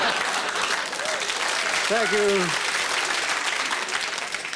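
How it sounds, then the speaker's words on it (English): Steady audience applause from a comedy show crowd fills the scene at a near-constant level, while someone speaks briefly over the clapping. "Thank you for that crappy applause"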